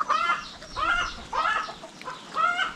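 Native country chickens call inside a poultry shed, four rising clucking squawks in quick succession, close and fairly loud, with short pauses between them.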